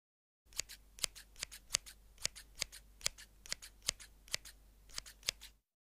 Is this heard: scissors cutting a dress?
yes